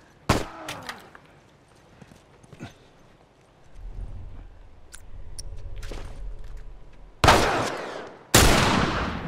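Gunfire in The Last of Us game, a few sharp sudden cracks spread across the span between quieter stretches, the last two loud and close.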